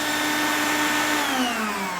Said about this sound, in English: When I kick this on, the vacuum turns on well